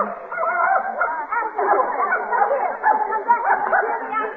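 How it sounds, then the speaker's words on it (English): A dog yips and barks in a vintage radio drama adaptation of The Thin Man, a steady, busy run of close, lively barking that fills the whole moment without a break. "Madam, you can't bring that dog in here."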